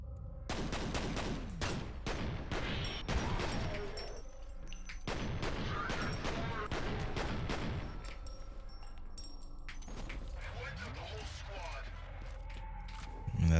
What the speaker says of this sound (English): God damn, these pistols feel good.